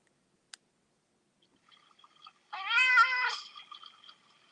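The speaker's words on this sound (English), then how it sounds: "Here's my cat playing." A pet cat named Tina gives one loud, drawn-out meow while playing, preceded by a sharp click and some faint chirps, with quiet small trills trailing after; no one talks.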